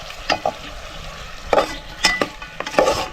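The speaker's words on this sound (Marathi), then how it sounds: "हे चिकन आहे ना आपल्याला या फोडणीत मस्त असं गरम करून घ्यायचंय." Chicken pieces are stirred in a hot spiced onion tempering. A steady sizzle runs under several sharp scraping and clinking strokes of the spatula against the pan, close up with no talk.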